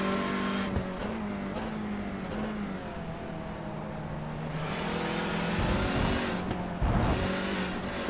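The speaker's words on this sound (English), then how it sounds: "Although the car sounds slow, I don't know if that's just the placebo effect." Race car engine in a sim racing game at Magny-Cours, a steady loud drone that rises and falls with revving and gear changes, running unbroken throughout.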